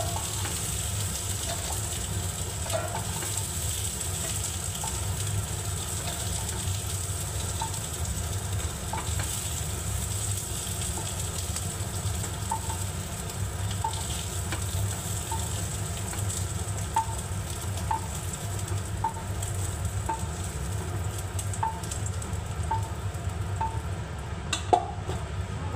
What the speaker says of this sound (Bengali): আলুটা দেখুন বন্ধুরা ভেজে নিলাম।